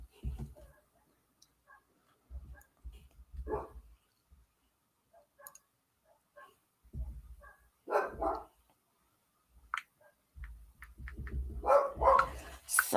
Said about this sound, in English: I guess my dog's going to be barking quite a bit through this.